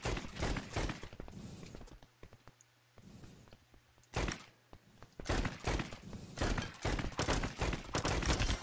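Pistol shots ring out in the browser first-person shooter EV.IO, sharp bursts of fire in quick clusters with short quiet gaps between them, loud and close.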